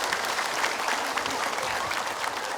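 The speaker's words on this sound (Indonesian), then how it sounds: "Tepuk tangan." Steady applause from an audience fills the whole stretch, a dense continuous clatter of many hands at even loudness with no talk over it.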